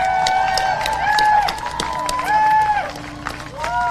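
An outdoor crowd greeting the Lummi totem pole on the Red Road to DC journey whoops and hollers loudly with rising and falling cries, mixed with clapping and cheering, all close and continuous.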